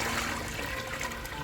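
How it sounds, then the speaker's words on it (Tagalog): Water overflows from a hydroponic container being filled during nutrient buffering with Calcinit, a continuous close splashing trickle throughout. "Umapaw na ang tubig."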